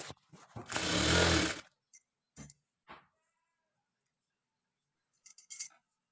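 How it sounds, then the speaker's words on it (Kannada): A sewing machine stitches a katori blouse in one steady, dense burst lasting under a second, followed by a few short clicks and handling knocks in an otherwise quiet room. "ಸ್ಟಿಚಿಂಗ್ ಮಾಡ್ಕೊಳ್ತೀನಿ ಸ್ಟಿಚಿಂಗ್ ಮಾಡ್ಕೊಂಡು ಅದನ್ನು ಟರ್ನ್ ಮಾಡಿ ತೋರಿಸ್ತೀನಿ"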